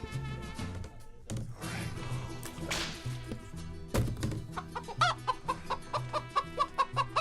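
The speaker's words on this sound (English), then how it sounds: "All right, bring in the chicken." Chicken clucks and squawks ring out over a busy music bed on a sports talk show, building into a run of sharp, rhythmic bursts toward the end.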